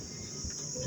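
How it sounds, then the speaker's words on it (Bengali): Crickets in a rural village during daytime make a faint, continuous high-pitched chirring drone that runs steadily throughout the brief stretch with low background rumble. "দিনে ঝিঝি পোকা"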